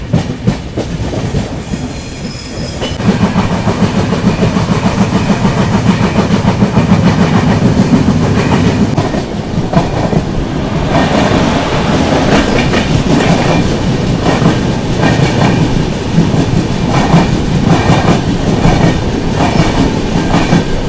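The Mangalore–Mumbai CSMT SF Express runs through a loop line, a loud, steady rumble of rail wheels with rhythmic clickety-clack over joints and faint wheel squeal, swelling after a quieter opening.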